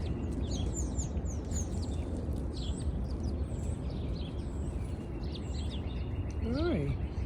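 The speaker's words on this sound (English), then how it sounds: "Pretty birds." Small birds chirp and tweet in quick scattered calls outdoors in a New York City spot where nuts are put out, layered over steady low background noise and near talk.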